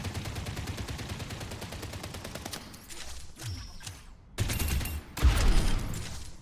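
Soldier's weapon effects in Overwatch 2: rapid bursts of automatic rifle fire rattle evenly through the first few seconds, followed by a whooshing launch and louder separate blasts, with no talk.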